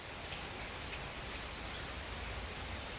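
Light rain falls in a garden in the early morning, a steady, even hiss of drizzle with no distinct drops standing out and no voices.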